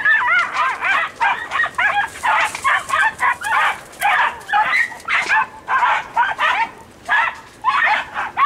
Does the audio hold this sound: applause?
no